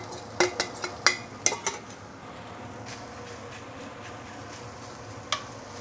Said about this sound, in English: Put in the rice